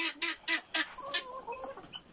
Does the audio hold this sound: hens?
yes